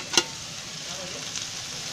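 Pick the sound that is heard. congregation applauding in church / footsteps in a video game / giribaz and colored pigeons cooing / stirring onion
stirring onion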